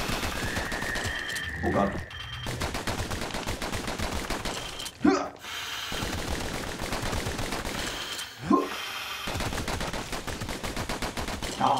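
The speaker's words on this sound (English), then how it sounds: "Oh, the dueling pistols are so good." Rapid pistol gunfire from the dueling pistols in the action game Bastion, dense repeated shots running throughout over game music, with a couple of louder impacts and a brief voice exclaiming.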